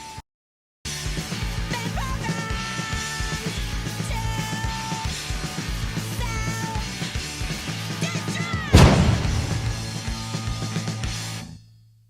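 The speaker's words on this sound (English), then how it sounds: "Okay, I added in the explosion, I'm sorry." A single added explosion sound effect booms out loudly near the end, a sudden broad blast that decays slowly over an ongoing music track.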